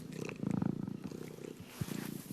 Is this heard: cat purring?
yes